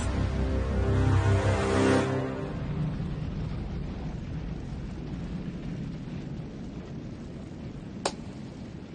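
A deep, rumbling boom rolls out and fades into a long, low roar, with a sharp crack near the end.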